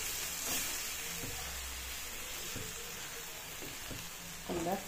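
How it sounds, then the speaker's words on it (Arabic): Chopped onion fries in a pan as the base for a Moroccan tagine, giving a steady close hiss and sizzle with a few soft clinks of stirring and a brief louder burst near the end. "قلات هذه البصله مزيان"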